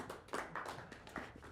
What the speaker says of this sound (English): Everybody give yourself a big round of applause